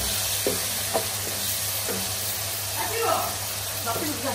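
Tomatoes and spices sizzle and fry in a pan while a fish gravy is being made, a steady hiss under light stirring scrapes and a voice.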